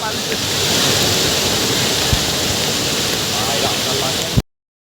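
A loud, continuous roar of rushing water, steady and broadband throughout, then cutting off abruptly.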